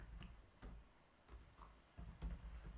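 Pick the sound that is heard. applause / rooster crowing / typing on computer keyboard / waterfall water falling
typing on computer keyboard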